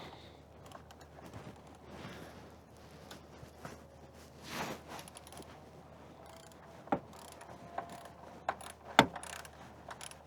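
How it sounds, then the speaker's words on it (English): Ratchet on an extension tightening the bolt on a Subaru PCV valve: faint, close mechanical clicking and clunks, with a few sharper ratchet clicks near the end. "you can just put your extension on there. Tighten that down with your ratchet"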